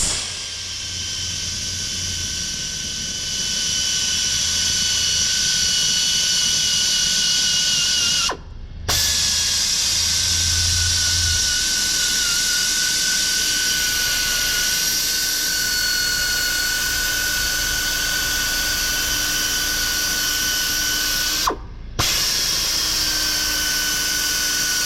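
A small Astro air tool sands a Porsche 911 headlight with dry sandpaper, a continuous high-pitched pneumatic whine with two brief stops, loud and close with no talk.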